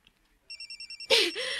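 A cellphone rings with a rapid pulsing electronic trill of six short beeps, then a loud burst of voices and noise cuts in as people start talking.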